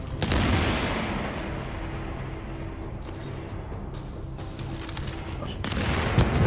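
Gunfire and grenade blasts in The Division combat, a dense, sustained clatter of shots and heavy rumbling with sharper bursts near the start and end.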